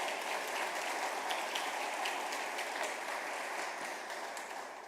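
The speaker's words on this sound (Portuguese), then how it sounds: "Dá um aplauso ao Senhor" A church congregation applauds together, a dense, steady wash of clapping hands that fills the room and runs continuously before easing slightly at the end, with no talking over it.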